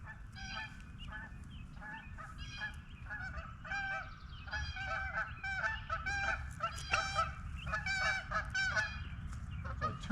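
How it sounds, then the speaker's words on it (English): Many geese honking together in a continuous chorus, moderately distant, over a low rumbling background. "What sounds like hundreds of geese sound like they're going to fly over us"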